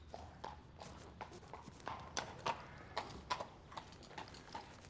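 Police horse hooves clip-clopping at a walk, a steady uneven series of sharp hoof strikes on a hard surface, moderately close against a quiet background.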